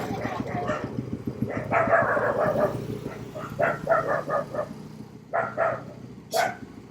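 A household dog barks in short repeated bursts, moderately close, over a steady low hum, with brief gaps between the barks.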